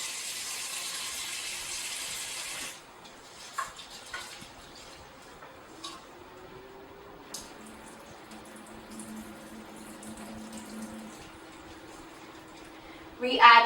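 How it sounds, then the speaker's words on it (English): Tap water rinsing rice for an electric pressure cooker, a hissing stream at first that stops, then quiet swishing and faint clinks, ending with a brief louder splash of running water; a person speaks at times. "Then we're going to rinse the rice."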